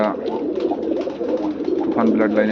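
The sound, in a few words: pigeon cooing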